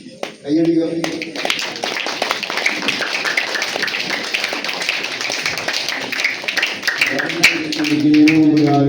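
An audience claps together at a first communion celebration as a boy cuts his cake with his parents. The clapping is dense and steady for several seconds, with talk before and after it.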